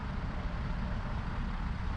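A truck idles near a wildlife feeding station, a continuous low rumbling engine drone heard close and steady with no other sounds.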